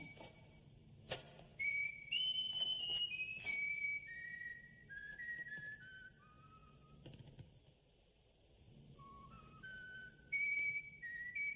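A person whistles a slow, wandering tune of clear sustained notes, rising and falling, with short pauses between phrases and faint clicks in the background.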